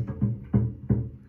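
Three short, dull bass notes plucked in quick succession, each muted and buzzy with little sustain, because the string is not pressed down hard enough.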